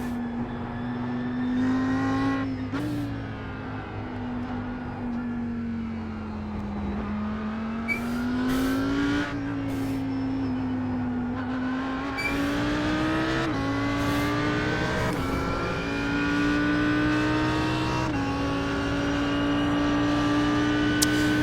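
Audi R8 GT3 race car driving at Indy Road in iRacing, a loud sustained engine tone rising and falling with throttle, short sharp upshift blips punctuating it, close and continuous without talk.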